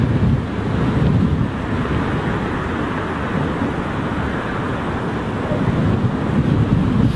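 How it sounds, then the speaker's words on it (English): Strong crosswind blowing across Heathrow Airport, a steady loud roar and rumble of wind buffeting the microphone throughout, with no voices. "Quite a stiff crosswind at the moment."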